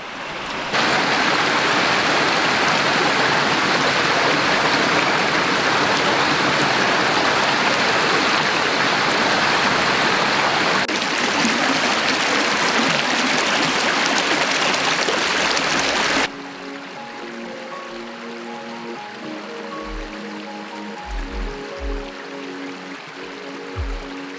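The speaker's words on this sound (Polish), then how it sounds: "Nagramy sobie też dźwięk tutaj wody do naszego" Flowing stream water rushes loudly and steadily close by for most of the time, then cuts off abruptly to a quieter scene.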